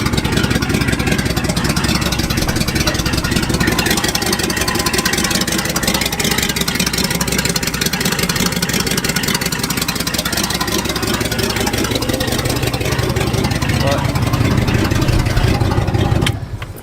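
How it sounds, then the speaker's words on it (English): A 1971 Ford F350 crew cab truck engine idles steadily and loudly throughout, with a rough, ticking exhaust note from an exhaust leak at the header layered over the low rumble, cutting off at the end. "Still has the exhaust leak by the header."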